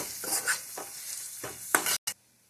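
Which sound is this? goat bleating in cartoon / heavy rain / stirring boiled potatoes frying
stirring boiled potatoes frying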